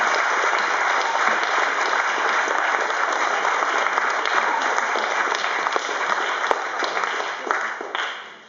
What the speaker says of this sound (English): So, round of applause for Margot Durkin.